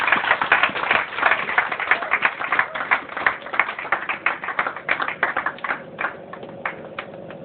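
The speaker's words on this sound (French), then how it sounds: "Applaudissons le Seigneur." A church congregation applauds, many hands clapping in a dense, fairly close patter that continues for several seconds, some claps falling into a rhythm, then thinning toward the end.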